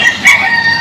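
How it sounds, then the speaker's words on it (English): A rooster at a roadside breeding and selling place in the Philippines crows loudly and close, a single strained call rising over a bright, continuous background of other birds. "selling and breeding roosters"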